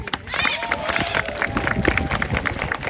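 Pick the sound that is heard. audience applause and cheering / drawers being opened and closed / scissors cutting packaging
audience applause and cheering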